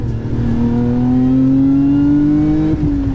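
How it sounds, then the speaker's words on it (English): A Lotus Emira or Porsche Cayman GTS sports car engine revs loudly and close up, its pitch climbing smoothly under hard acceleration before a quick drop at a gear change near the end. "That engine is cool up top. Good noises."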